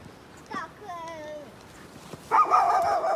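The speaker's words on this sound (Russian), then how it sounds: "это сторожевой космический пес" Space guard dog in a Ganymede exploration video game, giving a few yips and whiny barks mixed with people talking, then a louder burst near the end.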